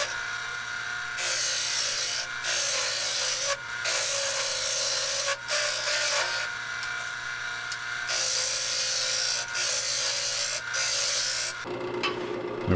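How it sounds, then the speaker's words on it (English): A square nose scraper hollows a wooden bowl on a spinning lathe, giving a steady loud raspy scraping hiss in repeated passes with brief pauses, then the cutting stops near the end. "in hollowing this bowl out, I decided to go with the square nose scraper and just kind of take it out a little bit at a time that way."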